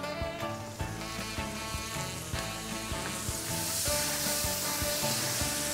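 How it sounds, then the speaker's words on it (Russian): Milk poured into a hot pan with toasted flour, rabbit dish cooked outdoors at a dacha, sizzles steadily and loudly for several seconds, the frying hiss swelling toward the end with faint stirring clatter beneath. "Добавляем немного молока"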